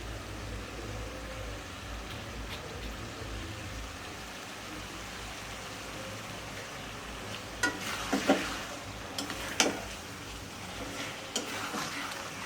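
A spiced mixture with black pepper sautés in a pan under a low, even sizzle, broken by a few sharper spatula scrapes and stirring strokes midway, with no one talking.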